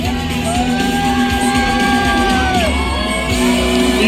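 A race crowd at an Isle of Man TT podium cheers, whoops and shouts loudly and continuously, with a steady roar of voices throughout.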